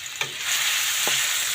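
Onion and tomato sizzle in a pan with a loud, steady hiss, with two sharp clinks of a utensil stirring against the pan, close up and without talk.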